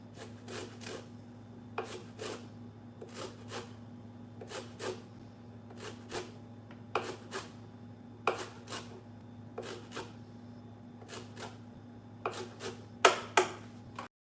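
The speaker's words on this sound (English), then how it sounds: "Since I need to zest the lime and mince the garlic, I thought it was best to do the lime first" A lime is zested on a small handheld grater, giving quiet, rhythmic rasping strokes in short bursts over a low steady background hum in a kitchen.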